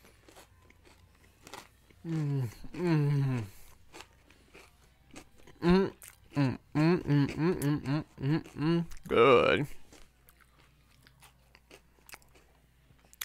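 Crunchy chocolate ice cream and cone are bitten and chewed close to the mic, with a quick burst of crisp crunches followed by a longer run of rhythmic chewing, and a voice speaks between them.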